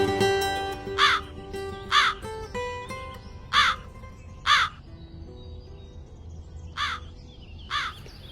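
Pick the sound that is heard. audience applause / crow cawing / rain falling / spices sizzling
crow cawing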